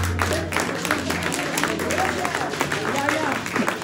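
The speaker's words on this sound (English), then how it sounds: "Put your hands together as we welcome her." Audience applause welcoming a speaker at a church praise and awards night, a dense, steady patter of clapping from a crowd that fills the room continuously.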